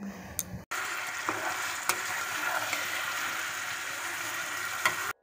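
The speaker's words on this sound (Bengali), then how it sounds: "তো দেখো আমি চিকেনটা এখন দিয়ে দিলাম, সমস্ত মশলা দিয়ে ভালো করে কষিয়ে নিচ্ছি।" Chicken with spices for biryani fries in a pan, a steady close sizzle with occasional stirring knocks and clicks, starting after a brief pause and cutting off at the end, no talking.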